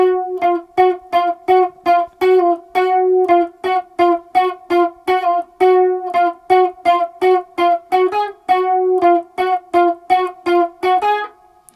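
An electric guitar picks a steady run of clean, separate notes in a lower harmony lead line, each note plucked crisply and evenly, with no talking.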